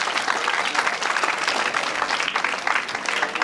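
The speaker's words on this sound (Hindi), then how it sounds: "एक बार जोरदार ताली बजाइए।" A crowd of listeners at a Sanskar Sena gathering gives loud, dense, sustained applause, steady clapping filling the space without pause.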